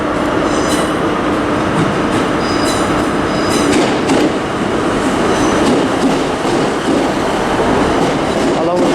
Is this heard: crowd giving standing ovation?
no